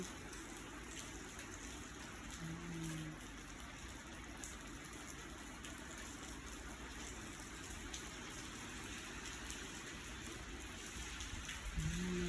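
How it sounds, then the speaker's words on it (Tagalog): Steady rain pours down in a constant, even hiss, with no breaks or voices throughout. "Maghapon na lang ulan."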